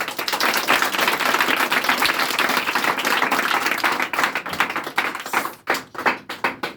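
A group of children claps for themselves, brisk crowded clapping that stays dense before thinning into a few scattered, sharper claps at the end.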